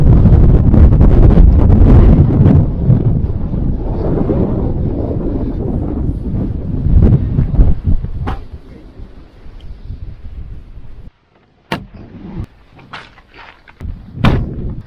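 Strong wind buffets the microphone across the Uyuni salt flats in Bolivia, heavy rumbling gusts for about eight seconds that drop to quieter stretches broken by a few sharp thumps and bursts.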